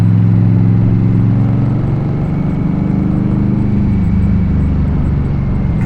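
Indian Scout cruiser motorcycle engine while riding, a loud steady low rumble with droning tones and wind noise, constant throughout with no voices.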